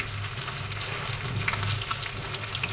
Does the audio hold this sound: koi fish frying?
yes